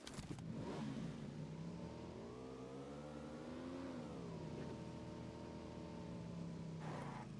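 A motorcycle engine in the video game PUBG Lite revs up and down in a steady, buzzing drone, rising in pitch and then settling, heard alone and fairly close.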